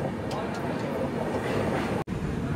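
AP Express pulling out of Duvvada station, a steady rolling rumble of the train heard from on board with a faint whine, broken by one brief dropout.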